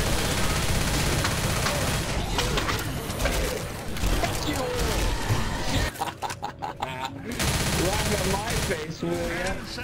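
Friendly-fire gunshots in Left 4 Dead crackle in rapid bursts across a busy, loud game scene, with excited voices talking over the gunfire and a brief lull near the end.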